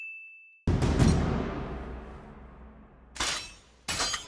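Anime sword effects: a thin tone, then a sudden loud metallic clang that rings and shatters as it fades, followed by two short sharp clashing hits near the end.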